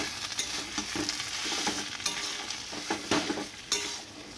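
Taro leaf curry with lentils, turmeric and chili is stirred in a cooking pan, a steady sizzle running under repeated scraping strokes of the spoon, close and fairly loud.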